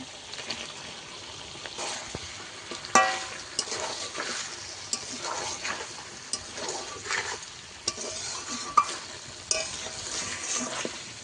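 Chicken skin with potatoes sautéed in a pan, a continuous sizzle with repeated spatula scrapes and stirs, close and moderately loud.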